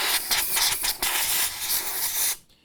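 A close, steady aerosol spray hisses in several quick bursts for about two seconds into the gate of an Aaton 35III camera during cleaning, then cuts off into quiet.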